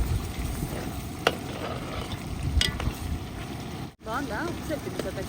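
Chicken curry frying in a pan, a continuous sizzle with a few sharp scraping stirs and clinks, and a brief squeaky sound near the end, heard up close.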